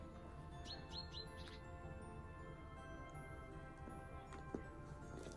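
Small birds flitting between birch and pine trees give a quick run of three or four high chirps near the start, faint and fairly distant, then scattered softer calls over low background hum.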